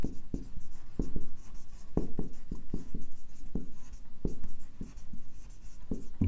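Chalk or marker writing on a board during a Hindi lecture, a steady run of sharp scratching strokes and taps at close range, with no one speaking.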